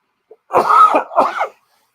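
A single harsh cough, loud and close, breaking into two rough bursts, with silence before and after.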